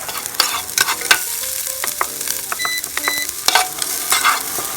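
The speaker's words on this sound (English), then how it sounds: "we're going to get the onions in first. We're going to let them caramelize and brown up a little bit." Onions fry in olive oil for borscht, sizzling steadily in a pan while a utensil stirs and scrapes against it, close and continuous with occasional clinks.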